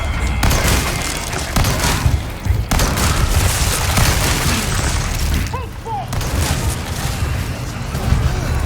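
Shotgun blasts and combat noise from Resident Evil 4 Remake, heavy booming gunfire bursts repeating throughout over a dense, loud game soundscape with faint voices mixed in.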